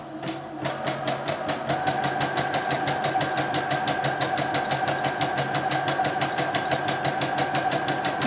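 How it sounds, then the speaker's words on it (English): A sewing machine runs a steady zigzag stitch along the edge of a piece of fabric, with a fast, even mechanical clatter that is close and continuous throughout. "I'm just gonna sew this zigzag right along the edge of that fabric"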